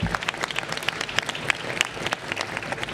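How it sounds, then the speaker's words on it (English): An audience at the 2017 New York Boat Show applauds Alan Steele, who runs the convention center, with scattered, uneven claps that stay moderately loud and a little distant. "Let's give him a round of applause."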